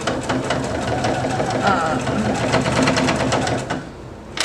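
A heavy-duty sewing machine punches slowly through many thick layers of fabric, a loud clunky mechanical thumping and whirring close up that continues steadily before easing off near the end.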